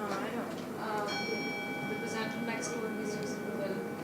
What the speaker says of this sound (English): I just thought maybe it was just random bell ringing